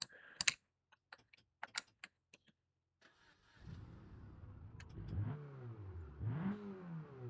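A 1.4 litre car engine in BeamNG revs hard and rises and falls in pitch over several seconds, loud and close. Brief keyboard-like clicks come first, before the engine starts.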